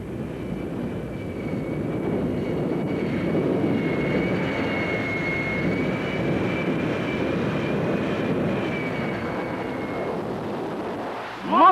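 Jet-powered Kenworth truck with a J79 jet engine roaring steadily at a drag strip, a loud sustained broadband rush with a thin whine on top, fading near the end with a sharp burst.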